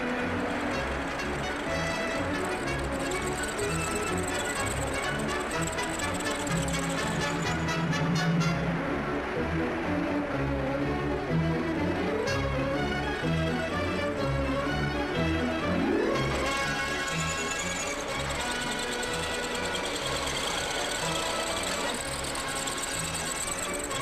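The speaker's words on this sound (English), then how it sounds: "And so these cycles of machining operations continue. In and out, the tool heads move, all controlled by the electrical panel" Automated machine tools in a BMC car factory at Longbridge cut car engine blocks, with continuous mechanical whirring, rapid clattering and occasional rising whines that run steadily throughout.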